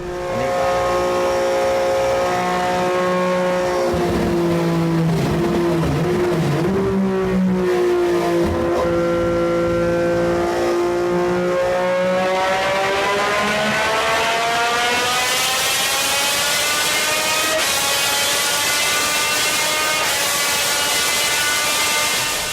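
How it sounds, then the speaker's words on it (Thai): A car engine with a 270-degree crankshaft revs hard and loud, its smooth harmonic tone rising and falling, then climbing steadily to a high-pitched wail near the end. "เสียงของเครื่องยนต์นะครับมันจะ มีความนุ่มนวลแล้วก็พิเศษกว่าเผาที่หมุนตามปกตินะ"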